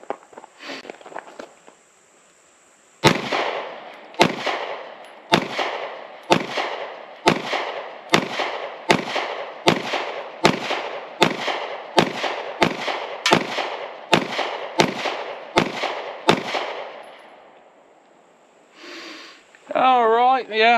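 Pistol shots from a Witness 2311 SC fired outdoors: about fifteen sharp reports at a steady, unhurried pace, each ringing briefly, with a little talk before and after the string.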